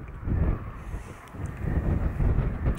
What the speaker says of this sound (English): But the wind's dead dreadful